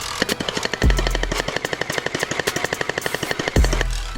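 A gel blaster toy minigun fires in one continuous, fast rattling burst of evenly spaced shots, close and loud, with a heavier thump at the start and end of the burst.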